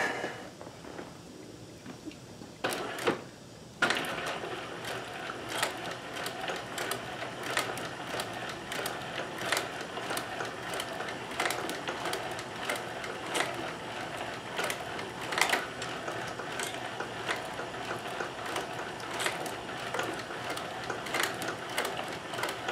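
An industrial Singer 72W19 sewing machine stitches with a fast, continuous mechanical whir and ticking, briefly pausing early with a few sharp clicks before running on steadily at moderate volume.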